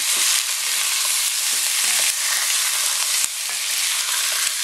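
Spare ribs and chicken frying in cooking oil sizzle loudly and steadily up close, while occasional soft knocks and scrapes of a stirring utensil sound beneath, with no talk.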